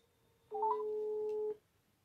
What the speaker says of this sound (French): nous allons essayer de contacter dès maintenant notre imam, Oustaz Djibril Gueye.